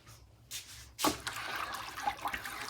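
Clay glaze stirred in water, sloshing and swirling liquid that starts with a couple of splashes and then turns into a continuous churning, close by.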